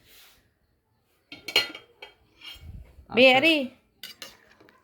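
Metal cutlery and dishes clink in short bursts as food is ladled out at a home meal, with brief talk and a voice in between.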